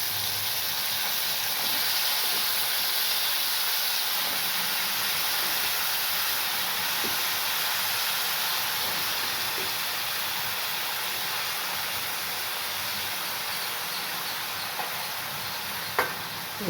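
Cut ridge gourd pieces fry in a pan after curry leaves, giving a steady, even hiss of sizzling oil that holds through the whole stretch, with a faint clink near the end.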